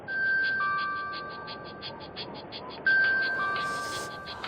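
A phone rings with a two-tone electronic chime, repeating in quick pulses over two clear rings, close and fairly loud with no talk.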